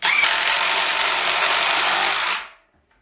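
A Hitachi or Bosch cordless power tool runs at full speed in a comparison test, giving a loud, steady, close whine for about two seconds before it stops and spins down to silence.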